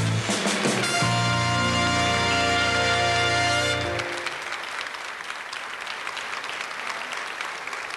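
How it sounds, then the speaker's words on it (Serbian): A television studio audience at a 1989 New Year's show breaks into loud applause that keeps going. Sustained music and singing end after about four seconds, and the clapping then carries on alone. "Divno, vidiš kakav aplauz."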